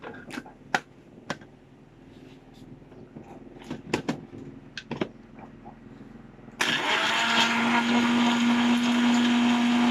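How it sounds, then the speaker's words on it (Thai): An electric blender starts up and whirs steadily with water inside and the lid closed, loud and close, after several sharp clicks and taps while it is set up. "ก็ใส่น้ำเข้าไป คับหนึ่งแก้วนะครับมันจะหนแก้ว เราปิดฝา ปั่นเลยนะครับ"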